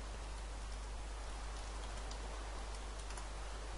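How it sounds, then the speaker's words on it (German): Steady rain falling in the video game Minecraft, an even hiss of dense pattering drops with faint ticks, continuous throughout with no talking. "Ich mag keinen Regen."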